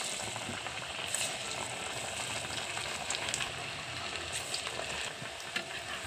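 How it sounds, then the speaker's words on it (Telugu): Chana dal vadas fry in hot oil in a pan, a dense, even bubbling sizzle with crackling pops scattered throughout, close and steady with no voices. "నూనె కాగిపోయింది కదా, ఇప్పుడు వేసేద్దాం వడలో."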